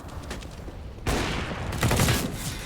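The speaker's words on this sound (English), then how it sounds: "Spamming down middle for Surreal. He's got that auto sniper." Rapid auto sniper rifle fire in Counter-Strike on Dust 2 at a DreamHack Open Anaheim 2020 match, a dense burst of loud shots that starts abruptly and keeps on over the game's background noise.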